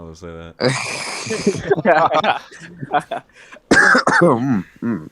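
Someone clears their throat and coughs up close, mixed with chuckling and lively talk from nearby voices.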